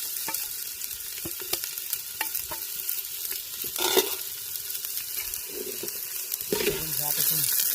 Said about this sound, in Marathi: हे तेल गरम करायला ठेवलं कांदा पण मित्रांनो लगेच टाकून घेतला